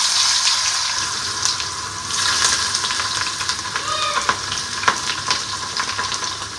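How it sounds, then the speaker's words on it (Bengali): Potatoes frying in hot oil with nigella seeds, a loud bright sizzle heard up close, with scattered spatter pops and stirring clinks in the second half and no speech. "অল্প কালো জিরে দিলাম আর তারপর এই আলুগুলো ভাজবো"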